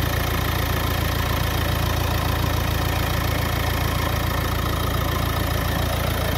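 A car engine runs at a steady idle, a loud, continuous and close rumble with no pauses.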